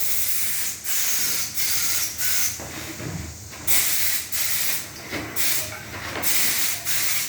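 Repeated bursts of spray hiss from spraying a finish coat during a kitchen build, each a second or so long, separated by brief pauses, close and fairly loud with no talking.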